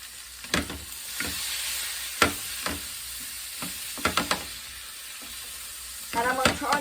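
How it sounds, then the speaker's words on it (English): Garlic and steak seasoning frying in butter in a pan while being stirred, with a low steady sizzle under scattered clinks and scrapes of the utensil against the pan, close and fairly quiet. "And I'm just going to like stir that around a little bit."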